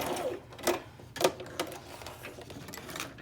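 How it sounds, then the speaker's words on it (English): A sewing machine stitches a strip of paper onto a journal page, giving a few quick, sharp rattling bursts separated by short pauses, fairly quiet and close with no talk. "I'm just gonna stitch all the way down to add that piece of paper to extend my page. I'm gonna make my sewing machine"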